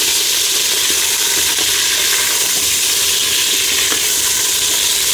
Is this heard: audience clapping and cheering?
no